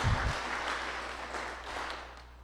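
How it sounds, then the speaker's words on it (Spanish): Applause from a church congregation at a sermon, a steady broadband patter that stays fairly even and fades slightly toward the end, with no voices over it. "Un aplauso, hermanos"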